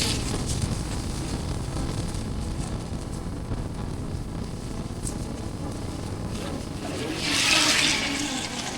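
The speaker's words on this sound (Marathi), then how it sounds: "पाऊस तर खूप आहे, रस्त्यावर सगळं पाणी साचलेलं आहे" Heavy monsoon rain hisses steadily on a waterlogged road on the way to Korigad fort, a continuous broadband wash that swells into a louder splashing whoosh near the end.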